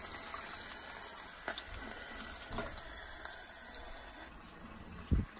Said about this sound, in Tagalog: Lagyan ng konting tubig.